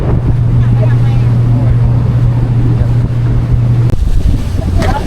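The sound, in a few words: motor boat approaching Koh Larn island, Pattaya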